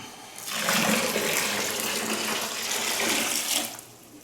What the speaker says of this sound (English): we're gonna add about 1 3/4 gallons of water